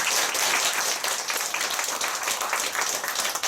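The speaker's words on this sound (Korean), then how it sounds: "다시 한번 박수 한번 쳐주십시오." A church congregation applauds at an elder ordination service. Thick, continuous clapping with no other sound over it lasts the whole short stretch.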